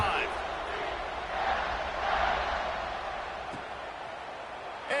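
Steady stadium crowd roar in a college football video game, swelling and fading across the stretch with a faint commentary voice underneath.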